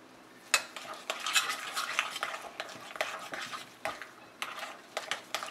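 Puran mixture for Maharashtrian puranpoli being stirred with a spoon in a pan: quiet, irregular scraping and clinking strokes close by, repeated every second or so over a faint background hiss.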